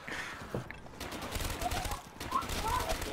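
An RPK machine gun fires in Call of Duty Black Ops 3 Zombies on the Nacht map, a steady crackling burst of rapid shots running through the whole moment with game effects behind it.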